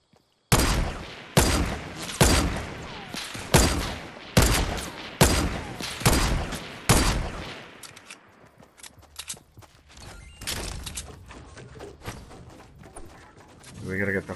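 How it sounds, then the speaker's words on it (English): Gunfire in a Halloween video game shootout: a steady series of about nine loud, evenly spaced shots up close, then scattered, fainter pops and clatter. "I see where they're shooting us from."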